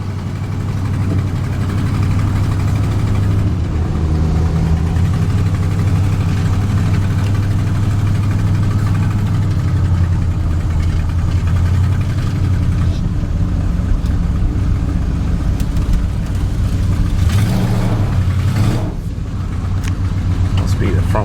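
A big-block Chevrolet squarebody truck engine with an exhaust leak rumbles loudly and steadily with a rough, sputtering exhaust note, while a voice talks over it; the revving swells briefly near the end.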